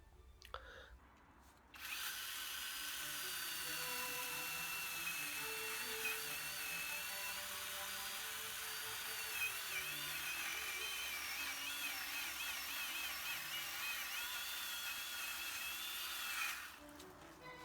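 Small one-handed chainsaw cutting a branch off a young metasequoia tree outdoors, a steady, high-pitched motor whine that starts abruptly, runs for about fifteen seconds and then stops, with no voices.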